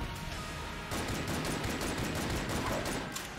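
Plague pistol shots in the video game Enter the Gungeon, a rapid stream of gunfire that starts abruptly after a brief lull and continues as dense, rattling bursts for several seconds.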